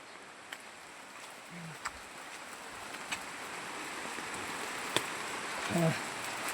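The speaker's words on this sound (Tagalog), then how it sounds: "Pag ganito lang guys, ang lakas ng ulan" Heavy rain falls on a vegetable garden with radishes and okra, making a steady broadband hiss, while scattered drips tap nearby and a couple of faint brief voice sounds come through.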